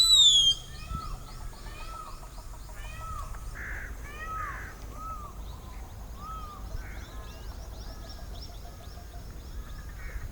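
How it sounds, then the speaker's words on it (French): Bulbuls on Okinawa island call in repeated shrill, squeaky notes at moderate distance, some bursts overlapping, over a constant outdoor background rumble with no talk. "Ça grouille de bulbules sur l'île. Ces oiseaux sont réputés pour avoir un cri plutôt énervant."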